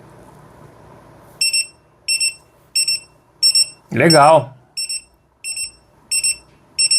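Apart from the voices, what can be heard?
alarm beeping on LiJIANI RD231 pocket radio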